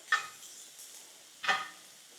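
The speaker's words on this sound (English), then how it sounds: "our burger, moose burger, is getting browned up quite nicely here." Moose burger browns in a pan on a woodstove, with a faint, quiet sizzle under two brief scraping stirs spaced about a second apart.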